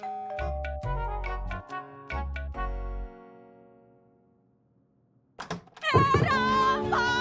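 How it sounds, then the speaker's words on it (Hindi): A two-tone doorbell chimes twice in a row with a lingering ring, followed by silence and then a burst of other sound. "कब से घंटी बज रही है, सुनाई नहीं दे रही है?"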